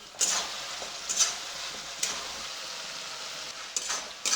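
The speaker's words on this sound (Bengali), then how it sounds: "বেশ কিছু সময় ধরে মশলা কষে নেব" Spice paste being sautéed in a pan for a Bengali egg and cauliflower curry, with a soft steady sizzle broken by several brief louder bursts of stirring scrapes, close and alone without speech.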